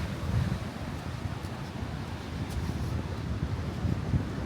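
Strong wind at a laid-back seaside town in Prachuap Khiri Khan, Thailand, roaring steadily as a broad, constant rush against the microphone for the whole stretch, with no voices.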